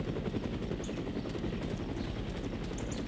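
Helicopter in the video game No One Lives Forever, a steady low rotor drone with dense rumble filling the whole stretch, fairly loud and continuous with no talk over it.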